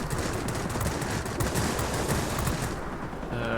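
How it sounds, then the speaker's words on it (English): Beaufighter aircraft guns firing in a World of Warplanes battle, a dense, continuous rattle of rapid gunfire that stays loud throughout with no pauses. "What is that, Bowfighter shooting?"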